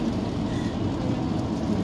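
Rain splashes steadily against a car windshield on a foggy, rainy day in Barrie, Ontario, a dense continuous wash of droplets with low road rumble beneath, loud and close throughout.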